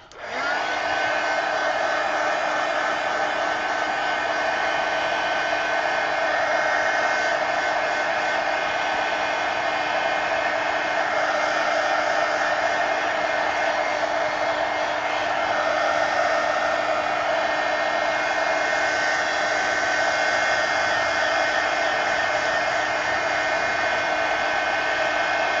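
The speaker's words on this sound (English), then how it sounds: "let me dry this" A hair dryer blows on an art journal page, a steady, loud, even whir with a constant pitch that runs unbroken for about twenty-five seconds, with no talking over it.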